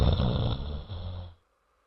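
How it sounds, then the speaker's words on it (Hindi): Several people snoring while asleep outdoors in a home courtyard on a hot night, a loud, close, rumbling drone that runs steadily for over a second and then cuts to silence. "आराम से खर्राटे मारकर सो रहे थे"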